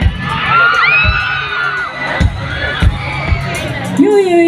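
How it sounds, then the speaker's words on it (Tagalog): Crowd at a live outdoor concert in Montalban, Rizal, shouting and whooping from the side, a sustained mass of voices with rising cheers and scattered sharp thumps throughout. "Pwede ko makarinig ng sigawan dito sa gilid."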